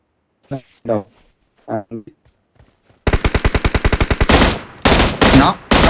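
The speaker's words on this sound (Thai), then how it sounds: "มันใช้ไรเฟิลยิงมา" Rapid automatic rifle fire erupts loudly in a video game battle, a fast even burst of shots followed by more heavy bursts, after a few short spoken phrases.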